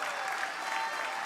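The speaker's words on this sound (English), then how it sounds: "Let's put our hands together and give them a colossal round of applause" Audience applause at a charity film awards event, a steady dense clatter of many hands clapping at once, moderately loud and continuous throughout with no speech over it.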